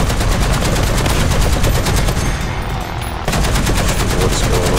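Sustained rapid automatic fire from an M8 LAC armored car in War Thunder ground battles, loud and continuous bursts with a brief dip before the shooting resumes.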